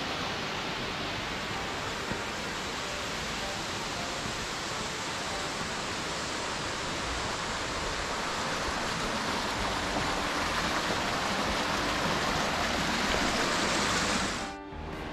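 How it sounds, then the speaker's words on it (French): A river in Corsica pours over smooth rock slides, giving a loud, steady rushing wash of water close by that holds unbroken for the whole stretch before cutting off abruptly at the end. "La rivière forme ici des glissières plus que des cascades."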